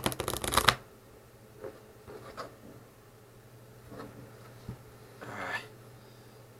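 Playing cards for a magic trick are shuffled in a quick, crisp riffling burst at the start, followed by a few soft card-handling rustles and taps in a quiet room.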